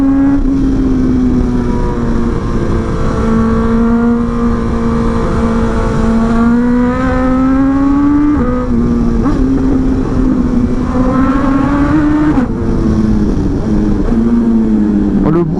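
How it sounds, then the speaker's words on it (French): Four-cylinder engine of a 2023 BMW S1000XR sport-touring motorcycle drones loudly and steadily, its pitch climbing and dipping as it accelerates on a road beside a cliff. Heavy wind rush and rider-mounted closeness throughout. "La résonance sur la falaise du 4 cylindres."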